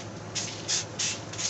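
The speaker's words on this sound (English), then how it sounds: "Spray her down." A handheld spray bottle mists a Calathea plant in four quick hissing bursts at a steady pace, close by and with no voices.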